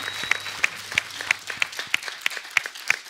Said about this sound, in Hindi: एक बार मैं आप सबसे कहूंगा जोरदार तालियां इन लोगों के लिए।